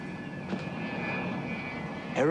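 An aeroplane drones overhead in a steady, continuous engine roar lasting a couple of seconds, moderately loud, with a brief sweep at the end.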